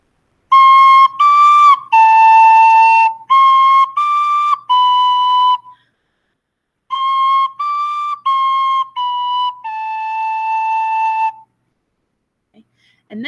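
Recorder playing method book song number 21, a simple tune of clear, steady held notes in two phrases with a short pause between, played alone at close range with no talk.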